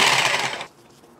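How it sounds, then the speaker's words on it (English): A power tool cutting through bone-in beef ribs, a close, harsh grinding buzz for most of a second that cuts off abruptly, leaving quiet room noise. "whenever you're busting out some power tools for your barbecue, you know it's gonna be a good day."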